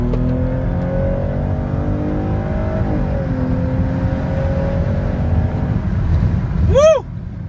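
A Lexus RX350 engine fitted with a cold air intake drones steadily at close range, its pitch shifting with acceleration, before a brief rising whoosh near the end.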